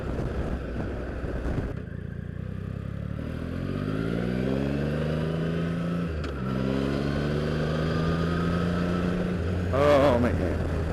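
A 2016 Triumph Rocket III Roadster motorcycle engine rumbles while riding, revving up through gear changes in rising sweeps, close and steady under wind, with someone speaking briefly.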